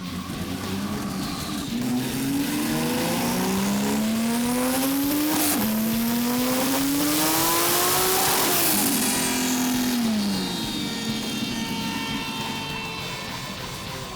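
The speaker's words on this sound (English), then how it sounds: "This 911 twin-turbo Porsche produced the highest horsepower of the day, 490 kilowatts on the wheels" A Porsche 911 twin-turbo revs hard on a dyno, its loud engine note climbing through rising pitch sweeps, shifting and climbing again, then winding down, steady and close with no talk.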